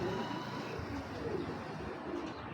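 Long-feathered pigeons cooing in a loft, soft repeated low coos over a steady murmur of background birds and room noise, with no one speaking.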